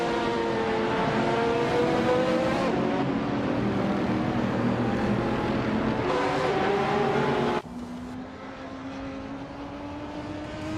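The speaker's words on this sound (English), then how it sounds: "Wolf's Light is driving a 2013 Panoz Abruzzi GT2." Race cars in a racing video game, including a 2013 Panoz Abruzzi GT2, droning loud engines whose pitch climbs and shifts before cutting abruptly to a lower steady tone.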